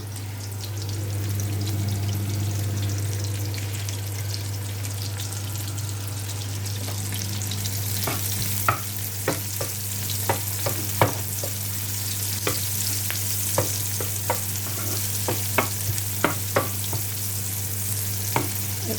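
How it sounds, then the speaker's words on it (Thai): Shallots frying in oil, a continuous close sizzle with a steady low hum, joined midway by irregular clicks and taps of a utensil stirring in the pan. "ที่เหลือก็เจียวหอมต่อเลย อืมมาเจียวต่อเลย"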